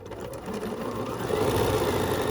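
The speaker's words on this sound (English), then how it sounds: "There's a cute little serpentine stitch. Let me just run it down this way now." A Bernina sewing machine runs a serpentine stitch, giving a steady, close mechanical whir that grows a little louder as it keeps going.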